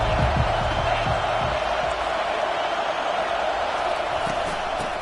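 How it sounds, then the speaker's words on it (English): A stadium crowd roars in a college football video game, a steady, dense wall of cheering that stays loud and even throughout, with a few faint thumps low underneath. "This crowd bringing an ear-splitting welcome to their visitors."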